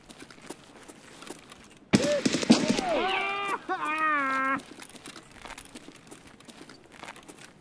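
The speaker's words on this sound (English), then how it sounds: "It's gunshots." Gunfire in the video game Borderlands 3, played on PC: a loud burst of shots lasting about two and a half seconds, followed by tonal warbling game effects, over quieter background game sound with no talking.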